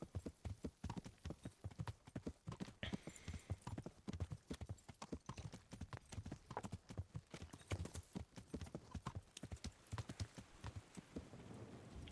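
A horse's hooves clip-clop in a rapid, steady gait during a ride in the medieval video game Kingdom Come: Deliverance, fairly close and continuous, with light rain-like background noise.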